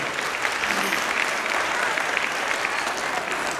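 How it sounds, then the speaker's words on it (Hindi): A school annual-function audience claps loudly for young children after a performance, a steady dense burst of applause throughout. "जोरदार तालियां हमारे नन्हे मुन्ने बच्चों के लिए।"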